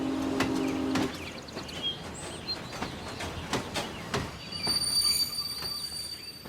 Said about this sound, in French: Le train à destination de Paris va partir.